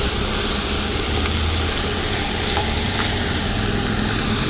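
Pork chops frying in a pan on a NuWave induction cooktop give a dense, continuous close sizzle that holds steady throughout with no talk.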